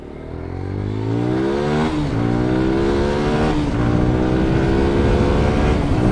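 A GPX motorcycle nicknamed Dark Fury accelerates on an open road, its engine note climbing steadily through the gears with a loud, continuous drone and wind rush and no voices over it.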